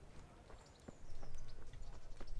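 Rhythmic clip-clop of horse hooves trotting on hard ground in the video game Kingdom Come: Deliverance, steady and close, growing louder partway through.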